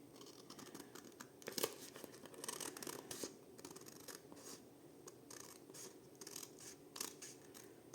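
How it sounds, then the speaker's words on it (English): Scissors snip through a paper window envelope, a run of close, crisp cuts and rustles with a few sharper strokes, heard alone without speech. "And I'm just going to cut on this side."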